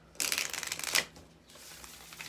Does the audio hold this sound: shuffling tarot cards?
yes